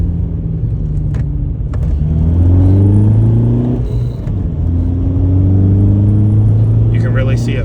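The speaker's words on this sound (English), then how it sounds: "We'll slow down here and we'll just run through a few gears." A Volkswagen ALH TDI diesel car fitted with a boost valve accelerates hard through several gears, the engine note climbing, dropping at each shift and climbing again, close and loud.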